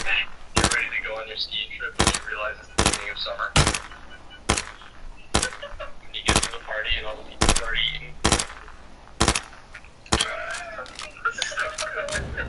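Repeated single gunshots in the online survival shooter H1Z1, about a dozen sharp loud cracks spaced roughly a second apart, with game sounds and bits of talk between them.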